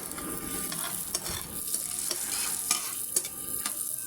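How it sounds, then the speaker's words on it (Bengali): Bay leaves and whole cumin fry in butter in a pan, a close, busy sizzle with crackles and sharp stirring scrapes throughout. "প্যানে বাটার দিয়ে দিলাম, দুটো তেজপাতা, গোটা জিরা"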